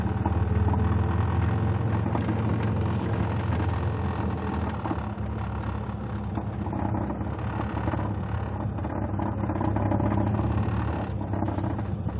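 A Triumph Spitfire accelerating on a test drive, its engine holding a steady, loud drone heard from inside the car for the whole stretch.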